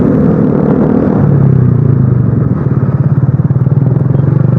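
Motorcycle fitted with a cheap aftermarket exhaust, idling loud and close with a steady, throbbing rumble that settles into a rapid pulsing beat partway through; no voices.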